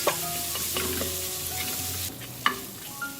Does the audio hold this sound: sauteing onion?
yes